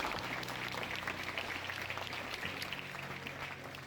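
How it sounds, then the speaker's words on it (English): Audience at the Developathon 2025 hackathon applauding its organizers: a dense, steady wash of many hands clapping at once, sustained evenly throughout with a faint low hum underneath. "A big round of applause for that."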